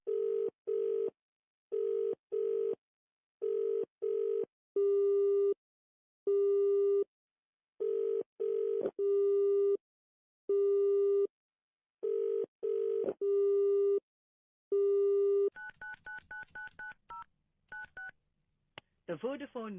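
A phone call is dialed, then a busy signal sounds as a loud, regular series of evenly spaced tone beeps. A rapid burst of touch-tone dialing follows near the end.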